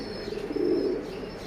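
Pigeons cooing and chirping in a flock while being fed grain outdoors, a steady close murmur of low coos with soft wing and bird activity, no talking.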